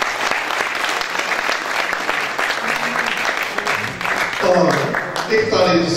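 Audience applause at a 2015 barsi celebration of music honoring Ustad Bahadur Singh, a loud sustained roar of clapping from a crowd, with a voice and tonal sounds emerging over it near the end.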